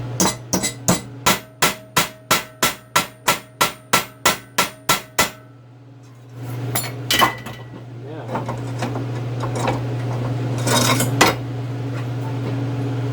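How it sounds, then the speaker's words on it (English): About fourteen sharp, evenly spaced metallic hammer blows flatten a steel flange for a camping wood stove, then scraping and clattering of metal follow, with a steady hum underneath. "and hammer this one flat"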